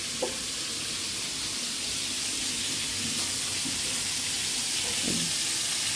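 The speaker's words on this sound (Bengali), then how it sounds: "মা তো এখানে মাছ ভাজতে আছে" Fish frying in oil in a home kitchen, a steady broadband sizzle running continuously throughout at moderate level, with a few faint clatters of utensils and no talk.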